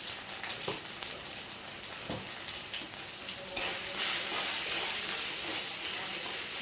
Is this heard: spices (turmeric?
yes